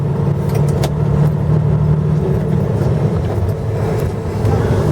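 A truck pulls out of a factory with a steady, loud engine rumble and road noise that stays continuous throughout, with no voices.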